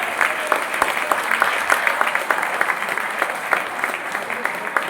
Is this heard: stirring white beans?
no